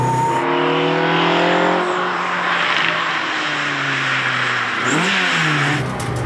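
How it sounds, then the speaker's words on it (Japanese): A carbureted Toyota AE86 engine revs hard around Tsukuba Circuit, its loud, rising note climbing through gears with pitch drops at each shift, recorded close inside or beside the car. "キャブサウンド、 これもうこのね、音とこの振動と雰囲気だけで、今の車にはない、なんか 高揚感があるな。"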